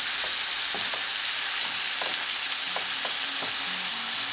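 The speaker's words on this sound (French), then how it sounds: "d'abord, on s'occupe de notre viande. On fait revenir comme ça." Minced meat browns in a pan with a constant close sizzle and crackle, dotted with small pops and soft scraping taps from stirring, steady in level throughout and with no voices.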